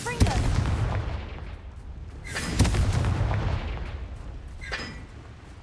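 Confringo fire spell blasts in Hogwarts Legacy: a sharp booming burst near the start, another strong crack mid-clip and a third later, each over a rumbling low background.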